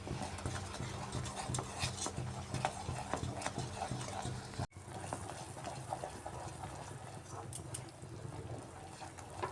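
Sugar syrup being stirred in a pan toward one-thread consistency while making semolina naru, a steady busy scraping and bubbling texture with repeated stirring strokes, a brief dropout midway, no talking.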